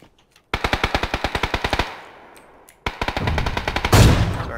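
Rapid bursts of automatic gunfire in a shooter video game, loud and close, with a steady rattling volley, a short pause, then a second burst swelling into a heavier blast.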